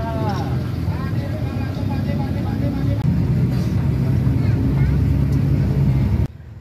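Stalled traffic on a congested road near Semarang, heard as a continuous low engine drone with idling vehicles, a brief whining tone early on, and someone talking over it.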